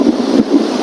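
Strong wind buffets the microphone on a stormy sea beach, a loud, continuous roar with low rumbling gusts and no speech.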